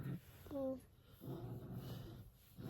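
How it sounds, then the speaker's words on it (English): A pet dog at home, a puppy among puppies, gives a short growly bark-like vocalization near the start, close and moderately loud, with household talk and background noise around it. "What's she barking at?"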